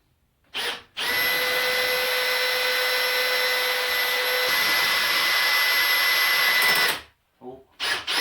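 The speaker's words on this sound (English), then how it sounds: "now I'm just going to drill" A power drill bores into wood while building a router table, one steady whine lasting about six seconds at close range, followed by short bursts and brief handling noise.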